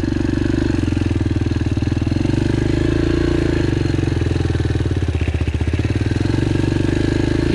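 Yamaha TT-R125L dirt bike engine pulsing loud and close while ridden on a track on a worn Mitas C20 tyre, a steady single-cylinder thrum with a brief throttle surge.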